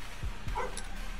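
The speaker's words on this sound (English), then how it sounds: "Oh, that's the dog." A few short dog yips sound in the background of an Attack on Titan tribute game session, faint and brief against a steady noisy bed.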